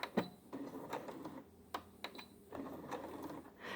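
A sewing machine with the needle down stitches two stitches forward and two back on fabric, giving quiet, rapid mechanical clatter in short bursts with brief pauses between them.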